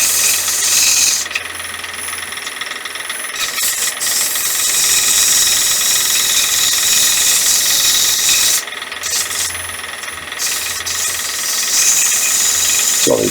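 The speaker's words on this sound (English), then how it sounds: "I've turned the lathe down to about 1000, it's a bit fast really" A wood lathe spinning at about 1000 rpm gives a loud, steady broadband whirring hiss over a low hum, with brief dips in level during the run.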